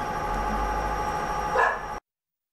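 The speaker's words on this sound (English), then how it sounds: "this speaker is blasting out the sound of a dog barking" A dog's barking plays loudly from a nearby loudspeaker for a couple of seconds and then cuts off abruptly into silence.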